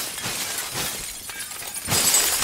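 Glass shatters in the PUBG video game in bright, crackling bursts, with a louder crash near the end after softer tinkling breaks, heard close and alone without talk.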